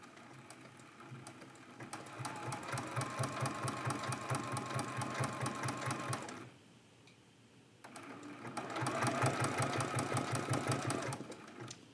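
A sewing machine stitches pieces of a quilt-as-you-go block in a steady, fast mechanical chatter, stopping briefly for about a second before resuming louder; faint and close, with no speech.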